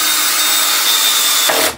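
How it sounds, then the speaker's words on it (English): A power drill drives screws during a woodturning session, giving a steady high-pitched whine that runs continuously and loudly, with no talk, before it winds down at the end. "I'm going to put all the screws in."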